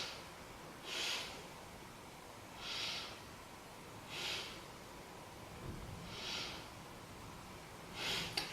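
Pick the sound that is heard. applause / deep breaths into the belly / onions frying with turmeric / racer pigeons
deep breaths into the belly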